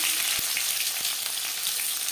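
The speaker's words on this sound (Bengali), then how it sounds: "ফোড়নে দিয়ে দিলাম পেঁয়াজ কুচি" Chopped onion dropped into hot oil in a kadai for tempering, sizzling with a dense, continuous hiss and a few sharp pops close by.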